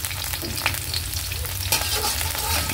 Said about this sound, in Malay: Letak bawang, goreng sekejap, layukan sekejap lah.